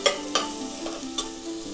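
Vegetables sautéing in a pan for mushroom biryani, a steady sizzle broken by a few sharp spatula scrapes and taps on the pan; no voices.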